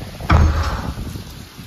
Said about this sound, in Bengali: দরজার শব্দ হচ্ছে, দরজার সাউন্ড করছে, দরজা অফ করতে হবে।